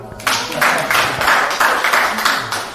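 A small group of people clapping on request during an informal judging session, a steady patter of hand claps that starts after a brief pause and carries on for the rest of the moment, close and fairly loud.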